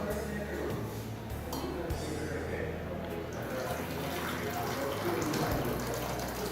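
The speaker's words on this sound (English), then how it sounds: "You take real hot water and mix a little bit of cold water so that it's lukewarm." Lukewarm water from a tap, hot mixed with a little cold, runs steadily into a sink for a stain-removal job, a constant rushing gush at moderate distance.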